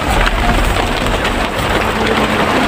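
Heavy rain pours down in a dense, loud, steady hiss and patter, close by and unbroken, with no talk over it.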